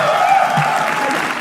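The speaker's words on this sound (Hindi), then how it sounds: "बादल शर्मा के लिए तालियां एक बार" A roast comedy show audience applauds in a dense, steady burst of clapping that fills the room for a moment, loud and close, with no talking over it.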